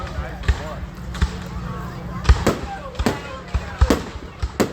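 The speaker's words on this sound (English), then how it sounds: "Love the fireworks." Carnival fireworks burst in a series of sharp booms and crackles spread across a few seconds, some near and punchy, others softer, with people talking in between.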